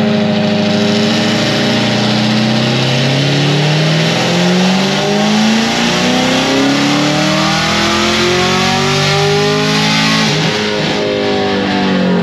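A loud 1000 hp supercharged sixth-generation Camaro ZL1 engine revs continuously with a raspy open exhaust, pitch climbing and swelling, then dipping briefly before rising again.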